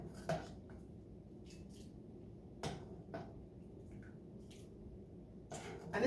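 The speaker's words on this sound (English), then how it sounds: "Actually, I think I'm going to put it in the bowl first and then sprinkle the parsley on top" Papa's oyster stew is ladled into a bowl, with a few sharp clinks of the ladle against the bowl and soft liquid splashes between, close over a quiet room tone without talk.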